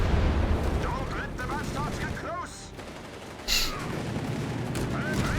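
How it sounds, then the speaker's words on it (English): Grenade blasts and gunfire in the real-time strategy game Company of Heroes 3, a desert battle with infantry and a Greyhound armored car, heard as busy overlapping shots and a few sharp bursts under continuous commentary talk. "Grenades off there."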